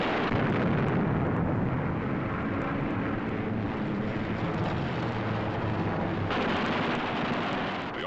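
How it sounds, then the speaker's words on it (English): Eight machine guns on a WWII fighter plane fire in a dense, continuous roar, loud and rough with muffled bursts blending into a steady wash of noise, with no speech. "With a touch of the finger on the stick, a camera and 8 machine guns are put into action"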